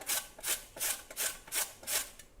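Red pumpkin rubbed against a kitchen grater in six steady, evenly spaced rasping strokes, close and fairly quiet, with no talking.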